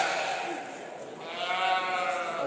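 Valais Blacknose sheep bleat at a show ring at Borderway, Carlisle, with a wavering, drawn-out bleat rising above a noisy crowd and a commentator's voice.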